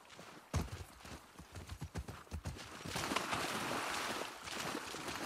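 Horse hooves in The Last of Us Part II, a close run of clip-clop steps on hard ground with an uneven trotting rhythm, fading into a steady windy outdoor wash with no one speaking.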